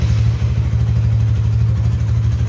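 A Honda Tiger motorcycle engine idles while warming up after being started, a steady, loud, close low thrum with an even pulsing beat and no voices.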